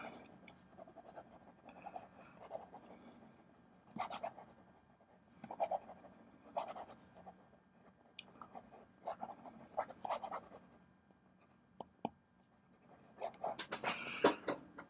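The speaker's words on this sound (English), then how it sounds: "Write quickly, see if it keeps up." A Mont Blanc Heritage 1912 fountain pen scratches quickly across paper in a steady run of short strokes, with brief pauses between bursts and a busier flurry of writing near the end, heard close up.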